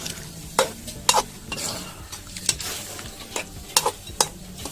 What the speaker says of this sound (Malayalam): നല്ല രീതിയിൽ വന്നിട്ട് ഇളക്കി കൊടുക്കാം